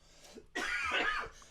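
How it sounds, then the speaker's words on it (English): A person coughs close to the microphone in one short, throaty burst after a brief throat noise, with no talking. "It is crazy how even a year later I cough a little bit"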